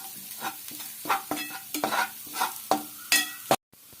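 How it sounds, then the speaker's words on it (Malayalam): Coconut and spice mix roasts in a pan for a Kerala clam roast, with repeated scraping stirs over a steady sizzle, close and fairly loud, ending in a sudden cutoff. "ഇതും കിടന്ന് നന്നായിട്ട് മൂക്കണം. നന്നായിട്ട് മൂത്ത് വരണം."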